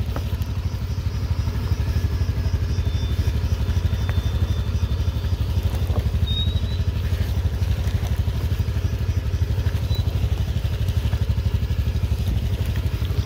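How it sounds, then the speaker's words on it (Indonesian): A motorcycle rides over a rough, rocky, newly built mountain road, its engine droning steadily with constant rattling and clatter from the stones throughout, close and continuous. "Takut jatuh saja ini motor Abang Awang"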